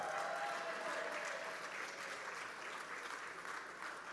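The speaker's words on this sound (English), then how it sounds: "This would be another round of applause" An audience at a leadership awards celebration gives a round of applause, a soft, even wash of many hands clapping that sounds somewhat distant and continues steadily to the end.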